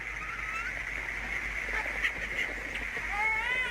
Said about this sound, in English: that's a bird, alright